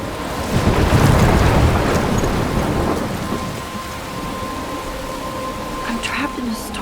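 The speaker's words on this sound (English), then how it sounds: "I'm trapped in a storm?" A video game thunderstorm in Life is Strange, with a loud, heavy roll of thunder over steady pouring rain that eases into a continuous rain hiss.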